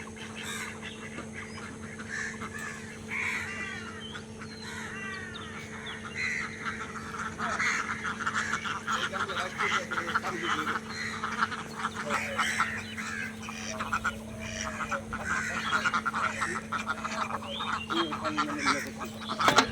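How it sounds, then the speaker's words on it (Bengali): A flock of ducks on a duck farm quacks and honks in a dense, continuous chorus, moderately near and steady, with a low hum running underneath. "হাঁস মিটিং করতেছে।"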